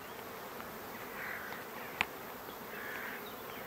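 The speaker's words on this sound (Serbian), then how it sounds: "Pčele rade." Honey bees forage on sunflowers in a field near the village of Šarbane by Ub on a cool morning, making a faint, steady buzzing hum with one brief click in the middle.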